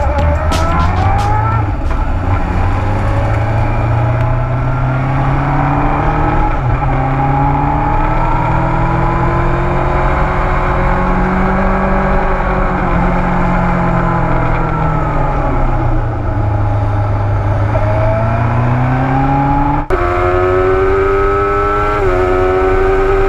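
Suzuki GSX-R motorcycle engine after ECU tuning, running steadily with smooth rising and falling revs throughout, close and loud with no talking.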